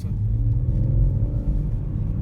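A BMW M140i Shadow Edition hot hatchback driven normally, its engine giving a steady, low rumbling drone close by, even and unrevved throughout with no talk over it.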